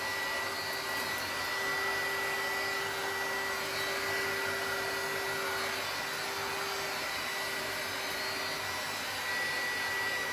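A hot air blower heats material so it can be folded for a DIY design, giving a constant whooshing whir with a thin high whine on top, steady in loudness and unbroken by speech.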